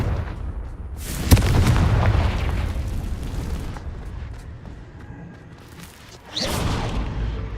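Confringo fire spell explosions in Hogwarts Legacy: a booming blast with a sharp crack, then a long fading rumble, and later a second loud burst that rolls on to the end.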